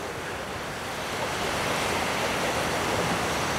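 Waves of the Azov Sea wash against a sandy shore in a continuous broad roar, loud and close, mixed with wind buffeting the microphone.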